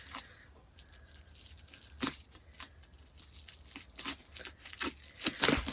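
A book package being cut and torn open, with quiet crinkling and sharp tearing bursts at irregular intervals, growing louder and busier toward the end; close and alone, no talking.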